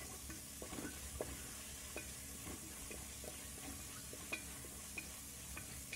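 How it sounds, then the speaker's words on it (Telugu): Ginger garlic paste sizzles in a pan while a spoon stirs it, giving a soft steady hiss broken by light scraping taps, with no talking. "ఇది పచ్చివాసన అంతా పోయే వరకు మనం అల్లం పేస్ట్ని బాగా ఫ్రై చేసుకోవాలి."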